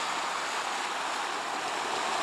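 Ocean waves make a loud, continuous broad wash of surf that stays steady from start to finish with no other sounds.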